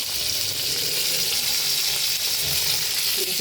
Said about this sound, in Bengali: বেগুনটা আস্তে আস্তে ভাজা হবে